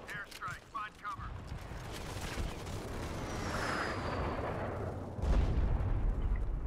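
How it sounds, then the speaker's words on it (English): Airstrike explosions in the mobile shooter Modern Combat 5 during a 5-on-5 match, a rolling roar of blasts and rumbling impacts that builds and thickens toward the end. "Airstrike. Find cover."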